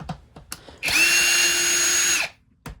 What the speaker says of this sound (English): So let's just start removing these 2 screws on each side.